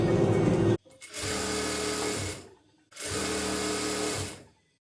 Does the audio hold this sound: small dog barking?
no